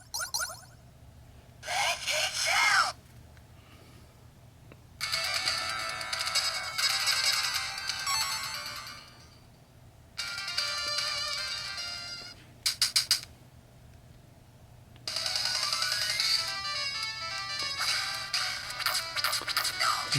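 Sega Genesis game sound effects and music played through the small speaker of a PocketGo S30 handheld, arriving in bright, tinny bursts separated by short quiet gaps.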